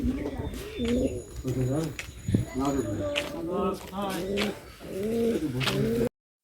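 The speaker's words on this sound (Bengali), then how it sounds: "এই দেখো এই বাড়িটা কতগুলো পায়রা" Pigeons cooing in repeated soft, throaty phrases at a building beside a roadside stop, the calls fairly close and steady over the whole stretch, with a brief break near the end.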